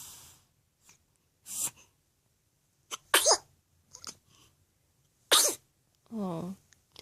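A small pet sneezes twice in quick succession, two sharp close bursts separated by quiet pauses, among softer snorts and breathy sounds.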